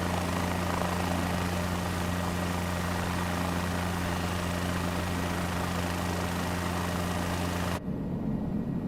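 Idling helicopter rotors in Microsoft Flight Simulator, a steady loud drone with heavy low throbbing that holds evenly and then stops abruptly near the end, leaving a quieter murmur.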